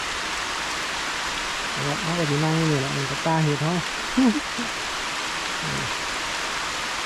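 Steady heavy rain pours in a forest where mushrooms are being gathered, a dense, even hiss throughout, with someone speaking briefly over it.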